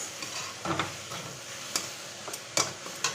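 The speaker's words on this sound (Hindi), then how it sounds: "ये मोमोज का मटेरियल मैं यहाँ पर फ्राई कर रही हूँ।" Chopped onion and cabbage for momo filling fry in a pan with a low, steady sizzle. Several sharp scraping stirs and taps sound close up, and there is no talking.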